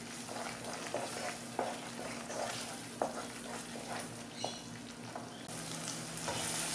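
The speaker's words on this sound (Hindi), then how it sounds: "अब इसमें हम ये जो प्याज, दही, काजू को पीस के रखे हैं इसको शामिल करेंगे। अब इसको हम मिक्स करते हैं।" Ground onion, yogurt and cashew paste stirred into fried masala for a dhaba-style egg curry, soft sizzling under repeated scraping strokes of a spoon in the pan, with a low steady hum.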